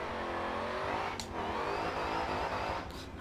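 A Honda Odyssey minivan built as a race car in Forza Motorsport 7 holds a steady, high-revving engine drone that climbs slightly in pitch. It is loud and continuous, with no talking.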